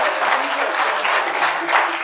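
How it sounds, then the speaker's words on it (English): Steady applause from a crowd at a keynote talk at the Steve McQueen Rally 2024, continuous clapping filling the whole stretch, fairly loud and close, with some voices mixed in. "They need a round of applause."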